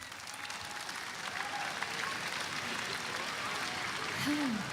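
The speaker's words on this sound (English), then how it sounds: "please give a round of applause for Miss Rachel as well" An audience applauds after a musical performance, a fairly soft, dense wash of clapping that stays even throughout, with brief voices faintly audible within it.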